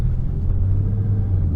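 Car fitted with OEM mufflers driving, a steady low engine drone and road rumble close up, continuous and moderately loud without voices.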